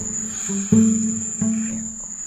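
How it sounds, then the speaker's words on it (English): A recording of the sound linked to Havana Syndrome heard by diplomats in Cuba: a steady, piercing high-pitched cricket-like shriek with a metallic electronic twang, joined by low buzzing pulses that cut in and out. "Shrieking crickets with an electronic twang. That's the sound."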